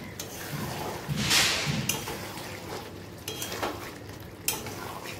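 Chicken kosha with freshly added chopped tomato is stirred in a pan, a spoon scraping and clinking against the metal in uneven strokes over a soft sizzle, close and moderately loud.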